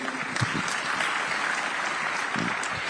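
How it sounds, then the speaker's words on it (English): An audience at a News18 summit session applauds in a brief, steady burst of clapping that fills the hall at a moderate level. "Big round of applause for him, please."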